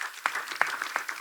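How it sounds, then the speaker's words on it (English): A panel audience at a marriage and money summit gives sparse, scattered applause, a few distinct hand claps spaced out in a brief burst with no talking. "Please give him a round of applause"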